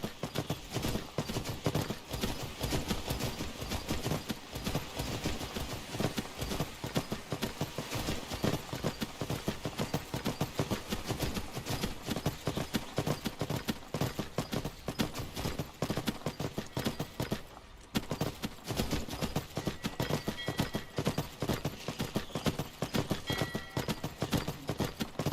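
Hooves of a reindeer ridden through the video game Skyrim clop in a steady, continuous rhythm under game ambience, with a brief dip in sound partway through.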